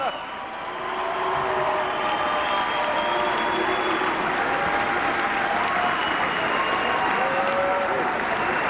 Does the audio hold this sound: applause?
yes